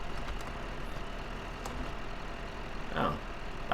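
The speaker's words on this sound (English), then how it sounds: "notice how the tractor is still running?" Tractor engine idling steadily in Farming Simulator 2015, a low continuous drone with a brief louder swell near the end.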